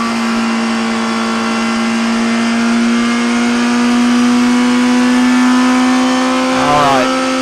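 A 2017 Suzuki GSX-R1000 motorcycle engine runs on a dyno with exhaust valve changes, holding a loud, steady high-pitched drone that rises slightly in pitch before a brief shift near the end.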